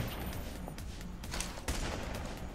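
Rapid gunfire in the video game Payday The Heist as snipers are shot down, a dense steady barrage of shots and impacts with a sharper burst partway through.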